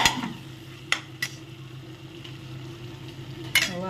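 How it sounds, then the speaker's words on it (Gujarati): Masala being stirred in a cooking pan for a vegetable dish with vadi, a soft scraping stir under a steady low sizzle, with a few sharp clinks of the spoon against the pan. "થોડો એકવાર હલાવી દેવાનું."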